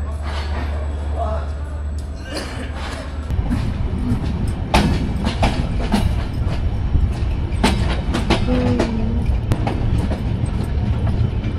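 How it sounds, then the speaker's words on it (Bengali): Ekota Express leaving Jaipurhat, its wheels rumbling and clacking steadily over the rails, close and loud, with a low engine drone at the start and bursts of talk inside the carriage. "আমাদের ট্রেন ছেড়ে দিল জয়পুরহাট থেকে"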